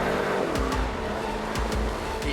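A Mercedes car engine revs hard and sounds angry, with loud rising and falling bursts of acceleration in quick succession and sharp gear-change blips between them.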